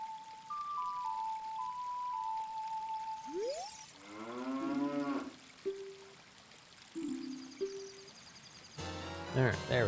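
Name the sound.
cow mooing in a Zelda video game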